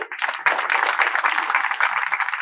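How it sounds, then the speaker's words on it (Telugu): Audience at a celebration for a devotional Ayyappa song release applauding loudly, a dense sustained burst of clapping that rises quickly and holds strong throughout. "ఒకసారి గట్టిగా క్లాప్స్."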